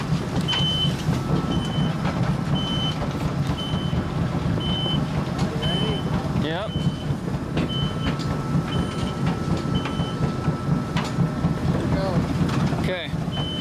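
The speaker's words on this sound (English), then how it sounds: "we have to start the motors and belts so nothing gets jammed in the system" Rock crusher plant motors and conveyor belts at a gravel pit run with a loud, steady mechanical rumble, while a faint high beep repeats at regular intervals throughout.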